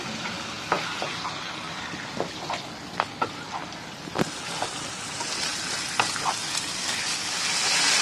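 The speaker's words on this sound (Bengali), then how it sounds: "এবারে এটা নাড়তে হবে খানিকক্ষণ।" Marinated chicken sizzling in a pan, stirred with repeated sharp scrapes and clacks of a spoon over a steady frying hiss that grows slightly louder toward the end.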